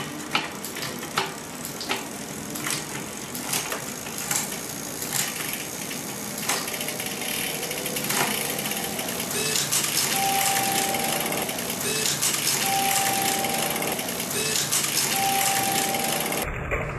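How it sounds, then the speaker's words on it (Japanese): Shimano Dura-Ace Di2 electronic shifting runs on a Bianchi Oltre XR4 road bike, with the drivetrain whirring mechanically and shifts clicking in repeated bursts. Short electronic tones sound near the end. "まずはアウタートップからアウターローにシフトダウンしたらどうなるか、"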